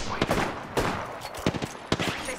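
Enemy gunfire in the video game Apex Legends: several sharp shots cracking out in irregular bursts, fairly close and loud over a steady background of game noise.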